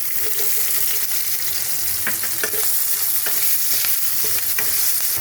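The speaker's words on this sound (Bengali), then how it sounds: "তেলের মধ্যে একটা গোটা লঙ্কা, তেজপাতা আর একটু গোটা গরম মশলা ফোড়নে দিলাম, দিয়ে এর মধ্যে আমি পেঁয়াজ কুচানো দিয়ে দিলাম" Chopped onions fry loudly in hot oil with a whole dried chili, bay leaf and whole garam masala, making a dense, continuous sizzle broken by repeated scraping stirs from a spoon.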